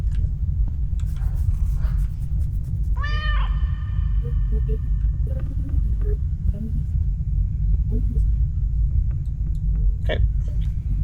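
A cat meows in a video game, a single drawn-out harmonic call rising then falling over a steady low rumble of ambient game noise, followed by a few fainter short chirps and a brief sharp sound near the end.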